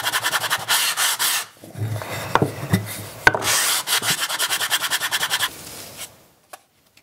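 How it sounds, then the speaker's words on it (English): Leather's grain side being sanded by hand, a steady raspy rubbing in repeated strokes that pause briefly midway, then a quick run of short rhythmic strokes before stopping, close and fairly loud. "Also sand the surface of the grain side of the leather for the same purpose."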